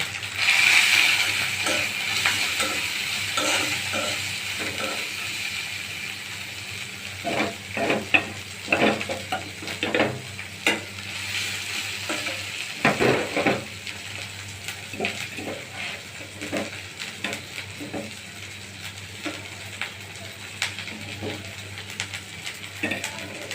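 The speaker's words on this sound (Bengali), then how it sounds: "এখন হলুদের গুঁড়ো মরিচের গুঁড়ো আর কাঁচা লঙ্কা আমি এই তেলের মধ্যে দিয়ে দিব" Turmeric, chili powder and green chilies sizzle in hot oil, a continuous bright hiss broken by repeated sharp scraping clicks of a spoon stirring in the pan, loud and close with no talking.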